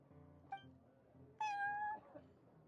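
Prince, a cat in the Cat's Tail tavern of the game Genshin Impact, gives two meows: a short one, then a longer, drawn-out one, clear over quiet background murmur.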